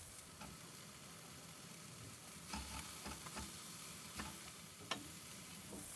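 Vegetables fry in butter for fried rice, giving a soft, steady sizzle in a pan with a few faint stirring scrapes and clicks, low in level with no talk.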